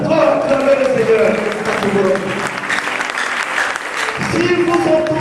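A church congregation claps and cheers together in praise, a dense, steady wash of applause and voices lasting throughout, briefly thinning near the end before swelling again.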